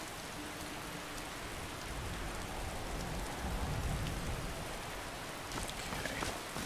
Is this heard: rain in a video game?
yes